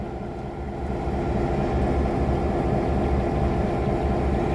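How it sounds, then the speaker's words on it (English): A heritage locomotive at the Tennessee Valley Railroad Museum moving to line up with a track, giving a steady loud low rumble of engine and rolling wheels that builds slightly and holds. "we must now line our locomotive up with track number 2, while our train sits on track number 1."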